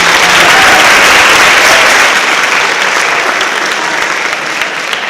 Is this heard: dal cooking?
no